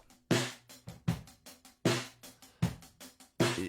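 Drum kit heard through overhead mics alone, thinned out so the cymbals stand forward: steady repeating hits with bright cymbal wash over lighter drum thumps in a regular groove.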